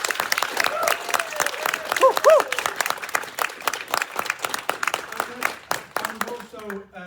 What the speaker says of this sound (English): So firstly, a big round of applause for Ridgewood,